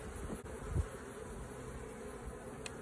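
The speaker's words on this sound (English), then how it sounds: "I hear the bees over here in this corner, a few." A faint, continuous buzz of a few bees in a weak hive in South Alabama hums quietly throughout, with no other sounds over it.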